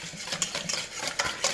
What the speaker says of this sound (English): now then I'm going to whisk this